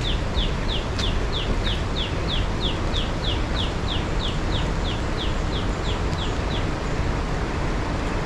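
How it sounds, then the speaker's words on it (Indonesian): A wild jungle fowl calls in a forest on a mountain slope, a long run of regular high chirping notes about three per second, fairly close, over a constant dense hiss of insects and forest ambience. "Ayam hutan ya."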